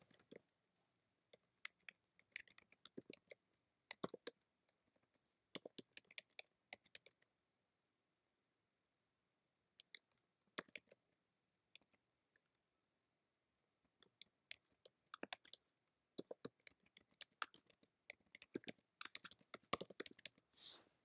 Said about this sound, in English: Let's type that.